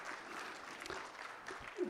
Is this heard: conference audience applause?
yes